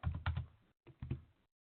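Keys clattering on a computer keyboard during Linux command-line work, two short quick bursts of close, crisp clicks separated by a brief pause.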